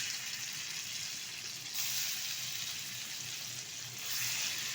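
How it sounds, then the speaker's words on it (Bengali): Paneer pieces cut into small shapes frying in ghee for a Kashmiri vegetarian dish, giving a steady, soft hiss and sputter with no voices. "পনিরগুলো ভেজে নেব।"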